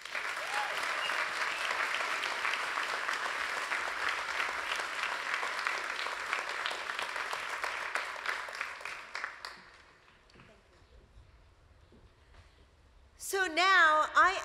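An audience at a 2017 university ceremony applauds in a dense, sustained clapping for about nine seconds before it fades to quiet room tone, then a voice begins speaking.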